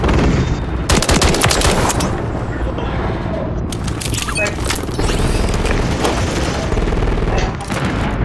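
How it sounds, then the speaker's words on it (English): A remote cannon turret fires rapid heavy automatic bursts repeatedly in Modern Warfare III, loud and sustained with booming cracks, in a frantic firefight with people shouting over it. "Hostile remote cannon is active!"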